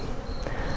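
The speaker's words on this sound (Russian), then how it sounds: "роятся пчелы." A dense, steady buzz of swarming Ukrainian steppe honeybees hums continuously close by during swarming season, with no voices.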